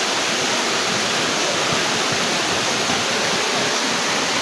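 A waterfall in Bono Manso, Ghana, pours with a loud, steady, broadband rushing roar that holds unbroken throughout, with no voices.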